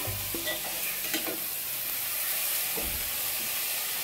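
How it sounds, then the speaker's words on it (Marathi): Fresh grated coconut sautéed with cloves and jaggery in a pan gives a close, busy sizzle broken by scraping stir strokes, with no voices. "हे पण थोडंसं परतून घ्यायचं."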